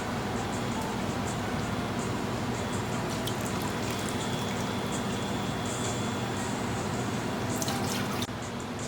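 Two cups of water pour into a saucepan for stovetop macaroni and cheese, a steady trickling, splashing stream that runs almost the whole time at close range and then stops near the end.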